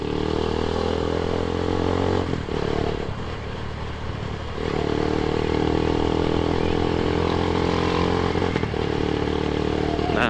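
A motorcycle engine lacking power drones steadily up close while overtaking, dipping briefly then surging back as it pushes ahead, with some clattering road noise.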